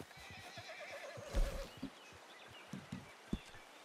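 A horse in Red Dead Redemption 2 gives a loud, quavering whinny that wavers and then fades, followed by scattered hoof clops and soft thuds, heard alone and fairly close.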